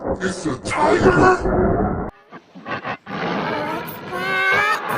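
Loud, rough tiger roars rise and fall over about five seconds, with a brief lull in the middle, while a person speaks excitedly over them.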